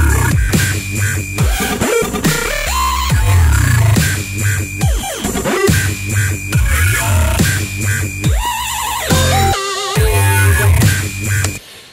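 A dense, high-harmonic wobble synth bass built in Massive throbs and chops over a constant deep sub bass. Loud rhythmic modulated bursts and talking mid tones run without pause through the passage.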